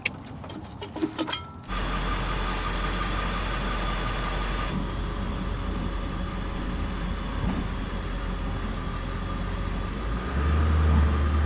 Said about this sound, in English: I think I just heard some cars starting.